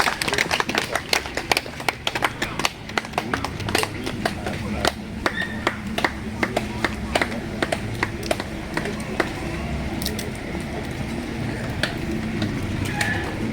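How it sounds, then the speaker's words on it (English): Audience clapping hands in welcome at a Lango Cultural Institution coronation gathering, a dense patter of claps with scattered sharper hits over low crowd murmur throughout. "We clap our hands as we welcome you."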